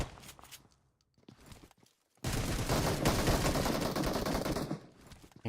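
Rapid bursts of shotgun gunfire in a competitive esports scrimmage match, a dense loud volley lasting a few seconds after quieter game sounds and footsteps.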